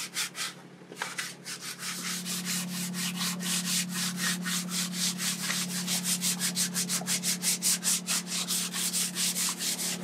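Wood is sanded by hand without a machine, a dense rasping rub that starts slowly and settles into fast, even back-and-forth strokes, close and continuous over a low steady hum.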